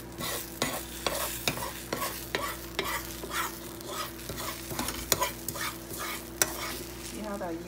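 Eggs frying in a pan, a soft steady sizzle broken by repeated scraping and sliding clicks of a utensil against the pan, close and fairly quiet, no talking.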